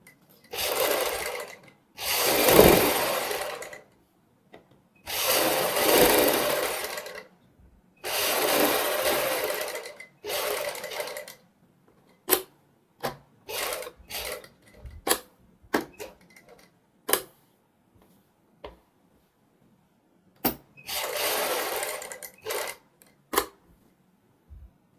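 A sewing machine stitches the centre seam of a kurti neckline backed with buckram, running in repeated bursts of whirring separated by silences and scattered clicks and taps of handling the fabric.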